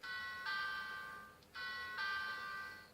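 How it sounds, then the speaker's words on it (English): Electronic chime from a Magiranger Grip Phone morpher toy, two-tone doorbell-like ding-dong played twice in a row, fairly quiet with a faint background hiss. "sounds like a doorbell"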